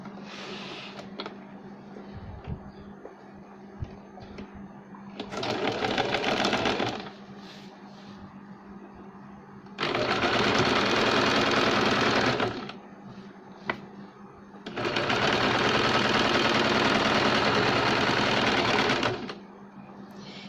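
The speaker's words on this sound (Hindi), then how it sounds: "अब हम यहाँ की फिटिंग की सिलाई लगाएंगे, जो हमने मार्किंग की थी वहाँ से हम सिलाई लगाएंगे।" A sewing machine stitches baby frock fabric in three long, loud, steady mechanical runs, each a few seconds long, close up, with quiet pauses and light handling between them.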